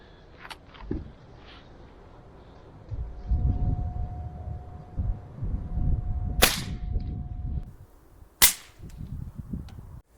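Two sharp, loud cracks from a Black Ops 4.5mm air rifle sniper fired at a polystyrene head target, one mid-clip and one near the end, over rustling handling noise and a faint steady hum.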